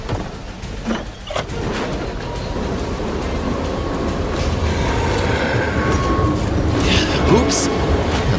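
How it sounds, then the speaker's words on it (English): A video game train rumbles along with rolling wheel clatter and rising mechanical noise, growing louder over several seconds, with a few sharp squeals and clanks near the end. "Luckily, I can drive trains."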